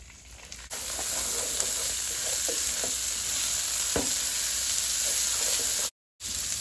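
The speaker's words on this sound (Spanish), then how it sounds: "aquí mismo vamos a freír el arroz" Raw rice fries in hot oil in a pan on a stovetop, a dense steady sizzle close by, with occasional scrapes and taps of a spoon stirring the grains and a brief dropout near the end.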